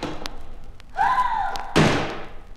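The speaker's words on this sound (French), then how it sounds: "Elle referma vivement la porte et alla se rasseoir tremblante de frayeur." A door is swung and slammed shut quickly, with a short creaking whine followed by one sharp, close thud.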